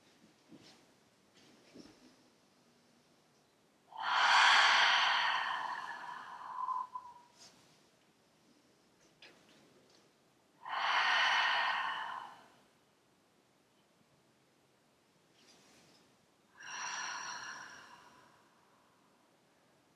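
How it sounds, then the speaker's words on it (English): Three big open-mouth exhales come in slow succession during a yoga flow, each a broad, breathy rush close to the mic, separated by quieter inhales and soft room sounds. "taking nice big inhales and open mouth exhales"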